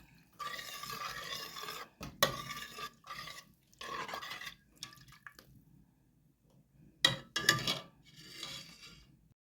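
A spoon stirs red curry paste into a pot of bamboo shoot curry with jackfruit, giving soft wet scraping and clinking strokes in bursts, with short quiet gaps and a couple of sharper knocks against the pot.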